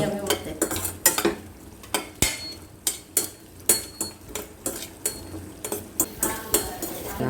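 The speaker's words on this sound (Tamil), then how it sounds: "அந்த நெய்லேயே சேமியாவையும் வறுத்து" Vermicelli being roasted and stirred in ghee in a pan for coconut milk payasam, with repeated sharp scraping clinks of a utensil against the pan in an uneven rhythm over a soft frying hiss, close and without talk.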